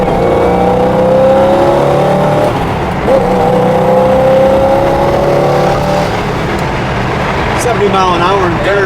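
A 1975 Chevrolet Camaro LT engine accelerating in third gear while driving, a steady rising drone with audible gear whine heard from inside the car, continuous and fairly loud.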